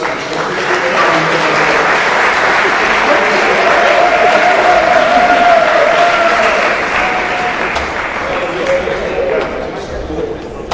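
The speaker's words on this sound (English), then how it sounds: "Big round of applause for these guys." A banquet crowd at a basketball awards night gives a loud, continuous round of applause, thick and steady for several seconds with faint cheering and chatter mixed in before it slowly eases.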